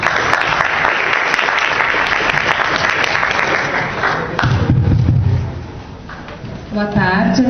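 A room audience applauds an exchange-program speaker, with loud, dense clapping for about four seconds that thins into scattered claps, thumps and background murmur before a voice starts near the end.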